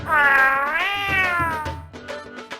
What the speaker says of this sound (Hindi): ये बिल्ली, ये मछली तेरे लिए नहीं है।